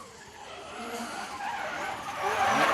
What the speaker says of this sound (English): With a fantastic ratchet as they pirouette into the drift zone.